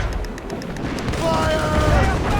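Ship cannons firing in Assassin's Creed Rogue during a naval battle, booming blasts and rumbling gunfire mixed with shouting voices at close range.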